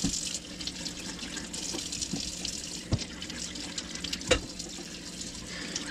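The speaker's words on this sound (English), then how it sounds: "So we are going to wash them first." Chili peppers, including Thai chilies, washed under a running kitchen tap, a steady close rush of water with small splashes and knocks as the peppers are handled.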